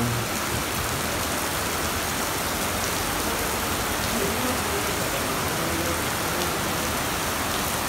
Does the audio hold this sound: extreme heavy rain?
yes